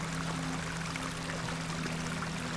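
A small beck in the Hob's Barrow video game flows steadily with a continuous, even watery rush and a faint low hum, and no one speaks.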